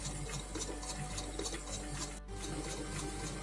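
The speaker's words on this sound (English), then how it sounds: "Wash your hands cleanly, like nicely" Tap water runs steadily while hands are washed under it in a kitchen, a constant close splashing rush with faint, uneven patter and no voices.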